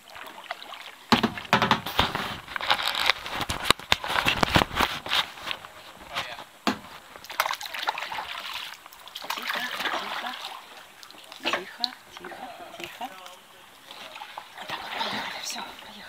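A small boat moving on a wild Florida river, with water splashing and trickling close by in uneven bursts and a steady wash of moving water throughout.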